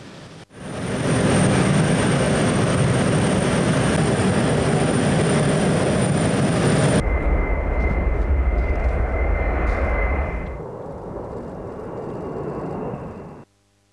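Military aircraft engines roar loudly and steadily as paratroopers head to the planes at a Ukrainian Armed Forces Day event, the tone shifting partway through before the noise drops away near the end.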